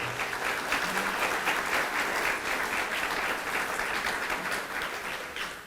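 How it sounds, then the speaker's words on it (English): A room of guests at a scholarship brunch gives a steady, sustained round of applause that stays full and even throughout, with no voices over it. "perhaps a round of applause would be in order"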